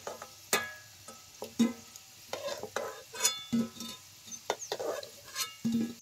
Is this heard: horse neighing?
no